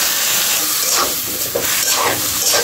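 Ginger and cumin paste with a little water and ground spices sizzling in a pan, a loud, close, steady hiss with soft crackles throughout.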